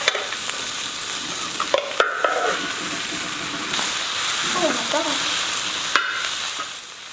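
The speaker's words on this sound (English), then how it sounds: "Keep it moving so it doesn't burn while breaking up the rice and cooking it further." Leftover rice with peas, ginger and garlic stir-fried on a discada, sizzling steadily while a metal spatula scrapes and taps against the pan in irregular strokes.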